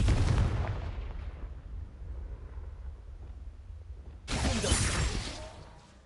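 Confringo blasting spell cast in the game Hogwarts Legacy: a loud explosive burst opens, rumbles and fades, then a second heavy blast erupts near the end before trailing off.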